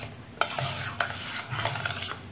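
Mango pickle pieces are stirred in melted sugar, a spoon scraping and clinking against the pot in a few sharp strokes with soft sticky swirling between them.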